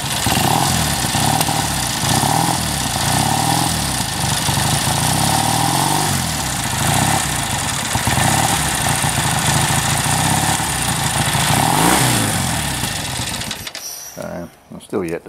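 A Triumph 850cc motorcycle with electric start idles loudly and unevenly close by, its carburetted engine note wavering and dipping, with a voice speaking over it before the engine cuts near the end.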